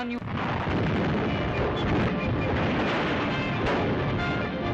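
Artillery guns shell a burning city during the 1938 Japan-China war, a continuous roar of fire and rumbling blasts, loud and dense throughout, in an old archival recording.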